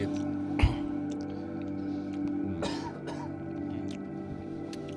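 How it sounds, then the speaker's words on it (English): Two harsh coughs from smoke, a sharp one early and a rougher one midway, close to the listener over a low background hum. "Coughing some smoke."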